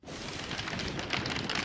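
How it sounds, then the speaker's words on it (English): Hail pounds down in a dense, steady roar, a loud continuous hiss of ice striking the ground with no pauses. "Oh no! I'm in the middle of a hailstorm!"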